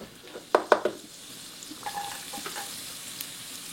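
Garlic sautés in margarine in a pan, with a low sizzle under a few sharp clinks and scrapes of a spatula near the start, then softer stirring.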